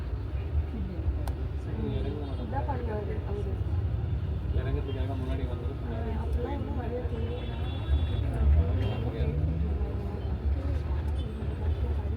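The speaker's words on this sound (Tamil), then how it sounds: "Too much of traffic." Chennai road traffic heard from inside an electric bus on a Bangalore–Chennai service: a constant low rumble of engines and tyres with passing vehicles, while a person talks over it.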